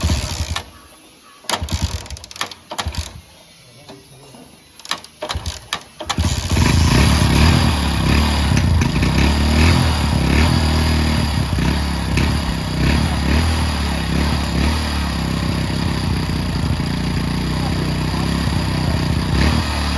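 Hero Honda CD 100 motorcycle, abandoned for four years and started without a key: a few dull kick-start thumps, then the single-cylinder engine catches and runs loud and steady, close by, with no talk.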